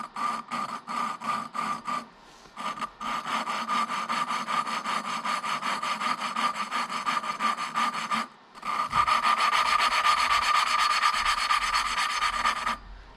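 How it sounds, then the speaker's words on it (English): Valve lapping on a Honda XR400 engine during a top end rebuild, a close, steady rasping grind from a suction-cup tool twisted back and forth with lapping compound, pulsing rhythmically with a brief pause before a smoother, louder stretch. "you can hear the sound change from kind of a coarse, grindy sound to a fine, smooth sound"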